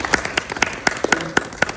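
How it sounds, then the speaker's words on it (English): Sparse claps from a small audience at an interview workshop, about eight distinct hand claps spaced unevenly over two seconds, fairly near and thin rather than a full ovation. "So let's give yourself a round of applause"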